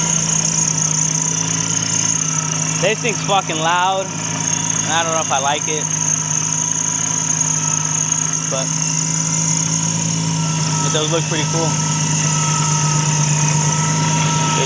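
A supercharged Infiniti G35 with a Vortech blower and test pipes idles loudly and steadily close by, a constant hum with a high whine on top, while someone talks over it in short bursts.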